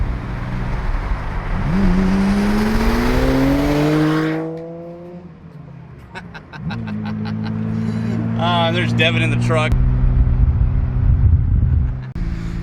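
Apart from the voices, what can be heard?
R32 Skyline GTR exhaust revving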